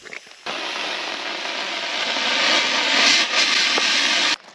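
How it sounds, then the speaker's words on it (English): A sandblaster fed by an air compressor starts with a sudden loud, steady hiss, blasts continuously for about four seconds near the listener, then cuts off abruptly. "we got new nozzles for the sandblaster so I can get started on all this"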